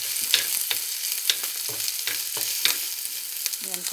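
Onion frying in a pan for a home-cooked potato and egg dinner, a steady close sizzle with scattered crackles and pops and occasional stirring scrapes, no voices.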